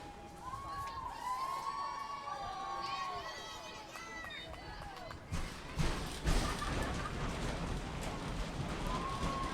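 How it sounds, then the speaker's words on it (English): Fans in the stands at a professional softball game, Atlanta Smoke against New York Rise, break into a loud, rising crowd roar and cheering after a stretch of scattered shouts and whistles, with a commentator's voice underneath. "The stands are shaking here with all of the fans in the crowd"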